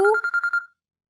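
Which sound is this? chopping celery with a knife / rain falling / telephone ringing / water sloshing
telephone ringing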